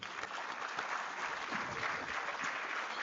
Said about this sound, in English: Let us welcome sir with a huge round of applause.